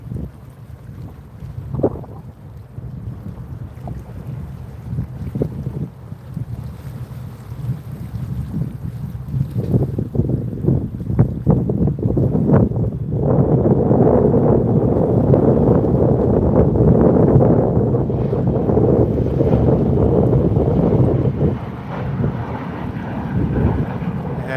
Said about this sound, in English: It's quite windy, but not as windy as last week.